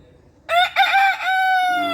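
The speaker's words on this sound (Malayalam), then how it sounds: "നിനക്ക് ഇവിടെ ഇരുന്ന് അങ്ങ് കൂവിയാൽ മതി" One loud rooster crow, close up, rising and stretching out for about a second after a brief quiet start.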